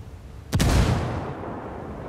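A single heavy frag grenade blast in a first-person shooter game, one sudden loud boom followed by a long rumbling decay that trails off into low background noise, with no talk over it.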